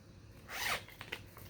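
A vinyl zipper pouch being zipped, one quick rasping pull followed by a couple of short zip ticks, close and fairly quiet, with no voices.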